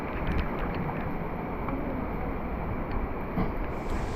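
Typhoon Uwan's wind and rain in Batangas, heard as a steady, dense roar of gusting air and driving rain that holds at an even, fairly loud level throughout, with no voices.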